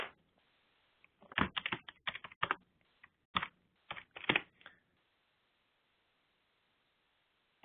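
Someone types on a computer keyboard in short bursts of quick, close key clicks separated by pauses, then the typing stops, leaving quiet background hiss with no talking.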